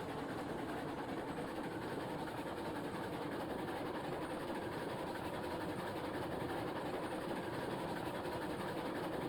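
Steam train in the video game Railroads Online running at a steady pace, a continuous rumbling chug and rolling clatter that holds even throughout with no voices.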